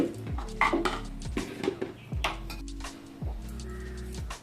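A metal wok clanks and scrapes on a stovetop several times as it is set to heat, with short ringing knocks in an uneven rhythm.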